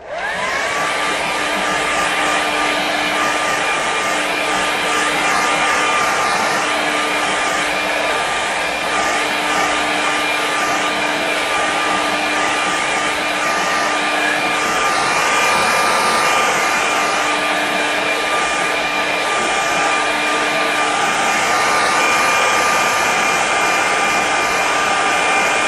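Hair dryer blowing steadily on a watercolour painting of a meadow, a loud continuous whooshing hum with a steady whine, running unbroken throughout with no talk.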